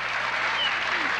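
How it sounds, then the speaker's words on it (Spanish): A television studio audience applauds in a dense, continuous wash of clapping that holds at an even level throughout, with faint voices mixed in. "Vamos a darle un aplauso a la reina."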